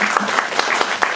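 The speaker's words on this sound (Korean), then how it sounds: "임선우 배우님께도 큰 박수 한번 부탁드릴게요" Brief burst of audience clapping for actor Im Seon-woo at a film Q&A screening, a close, dense patter of hands lasting about a second.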